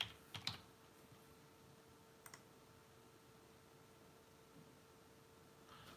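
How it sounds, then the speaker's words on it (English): A few quick bursts of computer keyboard typing near the start, a brief cluster in the middle and a faint tap at the end, soft and close, in an otherwise quiet room. "Type in my user ID."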